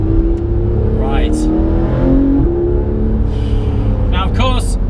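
Porsche 991 GT3 RS engine while driving, its pitch rising and falling through gear changes, loud and close from inside, with a person talking over it.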